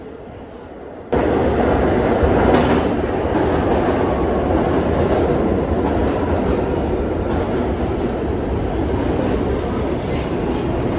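Two subway trains pass together in a station, a sudden loud roar that starts abruptly and holds as a dense rumbling clatter of wheels on rails for the rest of the stretch.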